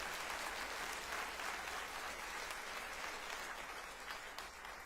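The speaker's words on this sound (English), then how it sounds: "Let's hear you clap so we can hear you." A town hall audience applauds in a distant, soft, even roar of clapping that holds steady throughout, heard faintly as if from across a large room.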